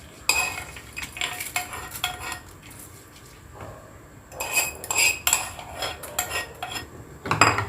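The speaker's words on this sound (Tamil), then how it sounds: "அந்த தாளிச்சதை இதில் மிக்ஸ் பண்ணிக்கலாம்." A spoon stirs tempering into peanut chutney in a bowl, clinking and scraping against the sides in close bursts, with a quieter lull midway before the clatter picks up again. No talking.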